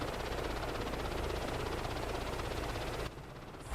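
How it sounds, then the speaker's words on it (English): A helicopter flies steadily in a flight simulator game, a continuous rotor and engine drone that drops off abruptly near the end. "I'm over here using a yoke to fly a helicopter, bro"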